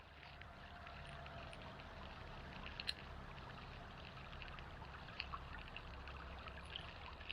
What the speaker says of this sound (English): Really nice to see a creek flowing in Western Australia.